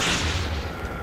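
Bazooka fire in a video game: dense, booming blasts with a heavy low rumble, loud and continuous through the short stretch, with no voices over it.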